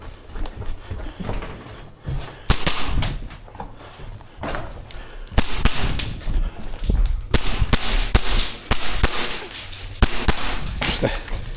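A Tokyo Marui HK45 airsoft pistol fires in quick bursts of sharp, snappy cracks, close and loud, repeated several times with short pauses between strings of shots.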